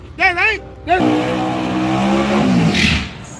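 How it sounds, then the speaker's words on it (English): A Fuel Tech turbo Camaro launches hard at a drag strip, its engine roaring up loud and sustained as the car pulls away, after a brief burst of voices at the start. "I like the way that car set up on that hook"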